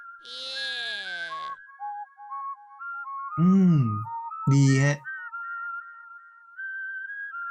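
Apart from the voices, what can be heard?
whistling of the Tenor character in Incredibox Sprunki video game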